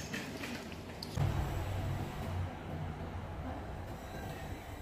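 A train rumbles along steadily at a station with low, continuous rolling noise and a brief brighter screech of wheels, no voices.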